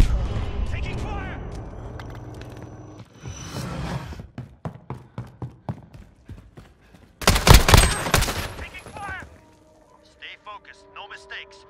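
Bursts of gunfire from a Modern Warfare 2v2 match: a run of sharp, evenly spaced shots, then a loud dense volley, with game voices calling out over the action.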